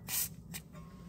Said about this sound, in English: let's make sure we put a WD-40, so it'll be easier for us to remove.